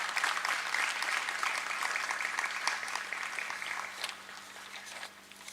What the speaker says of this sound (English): So I request all of them to please applaud for them in their absence.